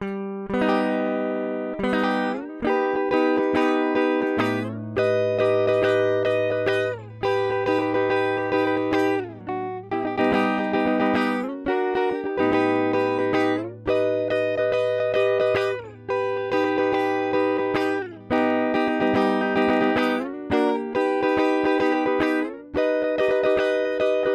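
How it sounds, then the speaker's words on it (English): Electric guitar playing a progression of augmented chords, each sustained strum ringing out in turn over a steady low bass note, loud and close with no talking. "Augmented chords, guys."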